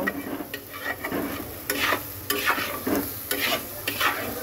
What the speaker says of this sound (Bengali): সব কিছু একসাথে সুন্দর করে মিক্স করে দেব আর মিনিট কয়েক এটাকে ভাজা ভাজা করব।